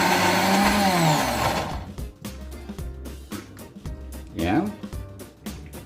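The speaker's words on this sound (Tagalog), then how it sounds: "Then we just cover our blender." A blender whirs loudly, blending mango and milk for homemade mango avocado ice cream, then cuts off after about two seconds. Talk and kitchen sounds follow.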